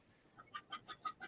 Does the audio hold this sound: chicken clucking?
yes